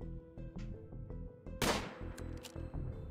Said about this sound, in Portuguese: Ui, grande tiro.